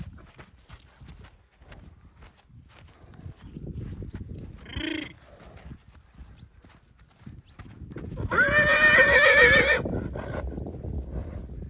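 A grey horse whinnies loudly and close by, a long shaky neigh, with a shorter snort-like call earlier and hoof clatter and movement around it.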